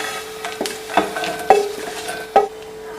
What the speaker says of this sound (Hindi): साथ ही हम ये थोड़ी सी मूंगफली है ये भी डालेंगे। जलाना नहीं है, इनको हल्का सा रोस्ट बस करना है।